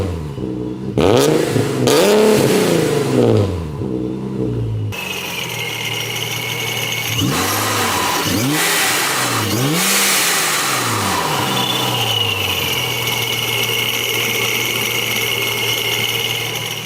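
An Infiniti G37 fitted with test pipes, its engine revved repeatedly in loud close bursts that climb and fall, with a short pause before a further series of sharp revs and a raspy idle between them.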